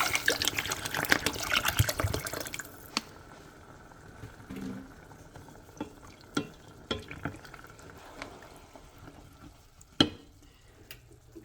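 Water poured into a pan of hot frying rice with tomato sauce, a loud hissing sizzle at first that settles into a quieter bubbling simmer with a few sharp clicks and knocks from the pan.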